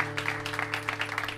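An audience applauds the musicians Pancho Varona, Jaime Azúa and Antonio García de Diego on a studio comedy show, a dense, steady patter of clapping over a faint sustained tone.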